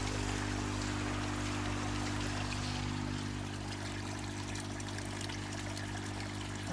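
Steady stream of water pours and trickles through a koi pond filter running at 10,000 litres an hour, a continuous close splashing wash with a low hum of pump machinery beneath.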